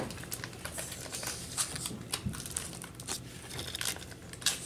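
A small plastic packet holding a plastic spoon is handled and opened, giving soft, intermittent crinkling and rustling bursts close by, quiet overall.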